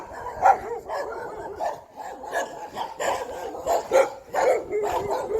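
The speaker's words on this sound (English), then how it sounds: "this is the dog that greeted us yesterday. More dogs." Dogs bark repeatedly on a residential street in Prashad Nagar, Georgetown, a series of sharp, mid-distance barks and yips in irregular bursts with brief pauses between them.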